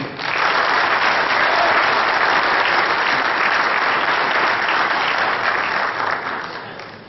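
An audience at a pétanque masters tournament in Madagascar bursts into sustained, dense applause, loud and steady for several seconds before tapering off at the end.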